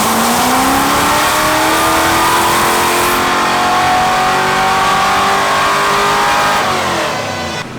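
Ford Mustang road-race car with a 408 stroker V8 revving hard on a dyno with nitrous, a loud continuous engine roar climbing steadily in pitch for several seconds before easing off.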